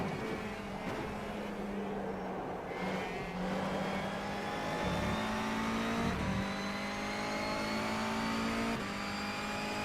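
Racing car engine in the rFactor 2 sim during an NGTC touring car race, with a steady loud drone and shifting pitch as it revs through gears, with other cars faintly around.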